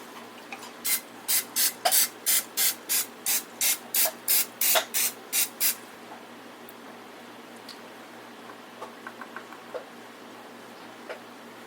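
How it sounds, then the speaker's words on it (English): Cooking spray hisses onto a baking pan in about a dozen short, evenly spaced bursts, close and crisp, followed by a few faint clicks and quiet handling. "I'm going to spray my pan."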